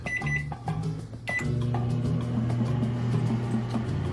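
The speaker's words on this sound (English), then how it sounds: "Let's pop this baby in the microwave for maybe a couple minutes." A microwave oven hums steadily with a low, even drone after a few clicks and beeps at the start, heating soup in a home kitchen, close and loud with no talking.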